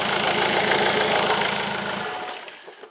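A diesel Ford Mondeo Mk3 engine runs close by with a steady, slightly knocking idle for about two seconds before the sound fades and cuts out.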